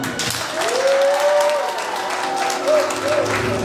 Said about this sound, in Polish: niechaj podziękowaniem dla Was będą te gromkie brawa